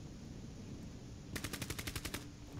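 Rapid automatic gunfire from a Rainbow Six Siege match, a burst of about ten evenly spaced loud shots ringing out over low background game ambience, with no talk.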